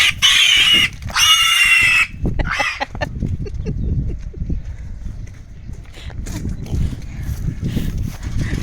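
Pigs being herded on a farm squeal loudly in two long bursts, then grunt and oink among shuffling hooves and movement, close by, with people talking at times.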